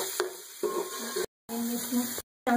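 Onions sizzle in a pan for karhi pakora, a moderate close crackle broken by two short silences and overlaid with a steady high-pitched electronic whine.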